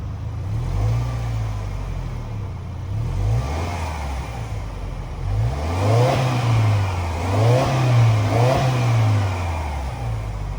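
A 2022 Subaru Outback Wilderness's 2.4-liter turbocharged four-cylinder boxer engine rumbles steadily at idle, with a few brief revs rising and falling over a low, continuous drone.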